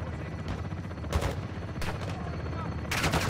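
Gunfire from a helicopter gun run in Call of Duty MW2, a few bursts of rapid shots over a constant rumbling background, at moderate loudness with a voice talking at times.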